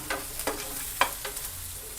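Masala for egg fried rice, with tomato and onion, frying in a pan: a soft sizzle broken by a few quick spatula stirs, one of them a brief sharp scrape.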